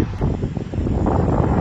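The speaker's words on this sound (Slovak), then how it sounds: "Ľudia, fúka strašne, ospravedlňujem sa za zvuk." Strong wind buffets the microphone in a mountain valley village beside a small stream, a loud, continuous low roar that swells and gusts throughout, with no voices.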